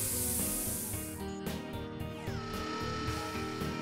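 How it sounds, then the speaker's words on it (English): A cartoon spray-paint can hisses in a quick respray over a scratch, a steady airy burst up top that fades after the first second or so, with busy background music carrying on underneath. "But the Mechanicals have paint to match. A quick respray."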